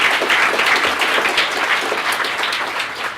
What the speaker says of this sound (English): You should give him a little round of applause.